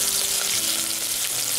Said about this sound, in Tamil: நல்லா பொரிஞ்சிட்ருக்கேன் எண்ணெயில்